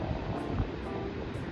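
Sea waves churn under a strong, cold onshore wind on a coast, a steady dense roar of surf and wind buffeting the microphone, continuous and close with no talking.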